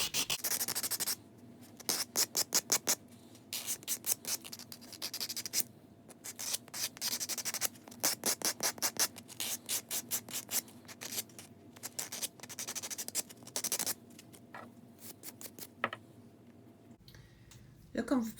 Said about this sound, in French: Je ne m'en suis pas vraiment rendu compte, donc j'ai continué à limer un peu sur l'ongle.